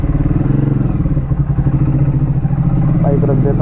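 A Triumph Speed 400 motorcycle idles close by with a steady, thumping single-cylinder putter that stays loud throughout, with a slight rise near the end.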